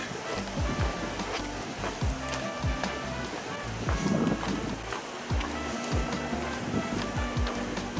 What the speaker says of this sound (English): Apologize for the wind. It's a windy day.